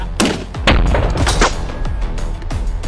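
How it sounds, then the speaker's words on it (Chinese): Loud, close shots from an NX2 revolver firing .44 Magnum rounds at a titanium K6-3 helmet, several sharp blasts in quick succession over a rumbling background. "随后测试的是 NX2 转轮手枪，发射点44马格南子弹。"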